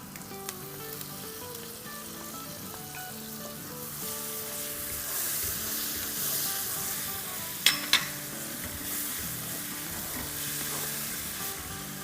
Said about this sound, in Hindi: तो बस अब इतना भूनेंगे कि तेल ऊपर आ जाए और मसाला अच्छे से भुन जाए